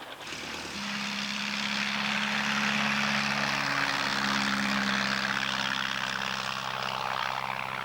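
A small single-engine propeller plane flown solo, its steady droning engine and airscrew roar rising in after a quiet start and holding loud and close throughout, with no talk.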